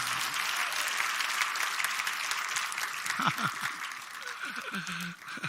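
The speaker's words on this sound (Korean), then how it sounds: "박수로 모시겠습니다" Audience applause welcoming a lawyer onto a Korean talk-show stage, a steady dense wash of many hands clapping throughout, with faint voices briefly rising near the end.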